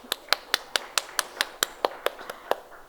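Steady, evenly spaced hand claps, about a dozen sharp strikes at a brisk pace, from an audience in a lecture room in Bombay, clear and close, easing slightly toward the end.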